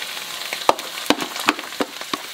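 Onion and sauerkraut fry in a pan with a steady hiss, broken by several sharp clacks of stirring against the pan.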